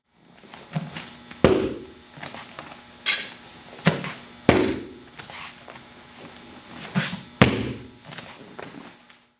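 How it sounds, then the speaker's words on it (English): Repeated full-power kicks into a held pad during a ground-fighting drill, each landing as a sharp, heavy thud, about six to eight impacts at an uneven rhythm, close and loud with faint breathing and movement between. "I'm going to kick the pad, full power, and then I'm going to rise"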